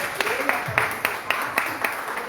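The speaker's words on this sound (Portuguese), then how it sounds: "Uma salva de palmas para Jesus." Church congregation applauding, a brief burst of clapping close by with irregular, sharp hand claps filling the space.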